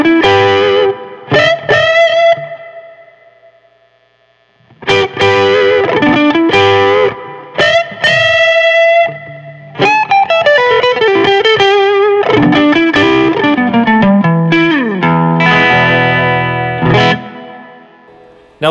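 Electric guitar through an amp with the treble turned up, bright and distorted with chorus-like shimmer, played in loud phrases and chord stabs separated by brief pauses, no voices.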